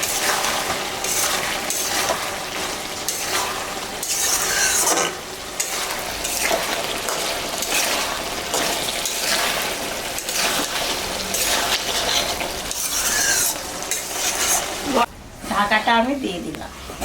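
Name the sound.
stirring a frying vegetable curry with added water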